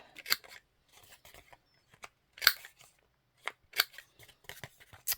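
Sharp snips of scissors trimming the corners of a paper journal card made from a book page, a handful of crisp, separated cuts with quiet rustling between them, close and alone.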